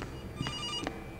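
Two short electronic telephone rings, a second or so apart, sound in the C.A.S.E Animatronics horror game, with a faint steady hum underneath and no one talking.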